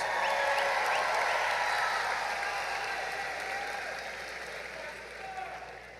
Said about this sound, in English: Let's give all these outstanding seniors a round of applause